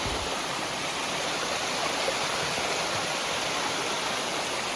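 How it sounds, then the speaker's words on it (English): A waterfall near an old mill ruin gives a steady, dense roar, even and unbroken throughout, moderately distant with no voices over it. "we're heading back down this waterfall"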